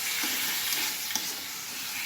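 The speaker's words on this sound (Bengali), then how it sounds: "ভালোভাবে মশলা কষিয়ে নেবো।" Spices including ginger, coriander powder and ground cumin with dried chilli paste sautéing in a pan for a mutton dish, a soft continuous sizzle with a faint clink of stirring, fairly quiet.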